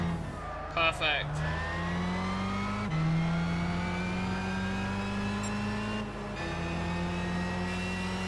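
Race car engines howling in Gran Turismo 6 during a GT World Championship race, a loud steady whine that shifts pitch with gear changes, a rival car pressing close behind, with a voice talking over it.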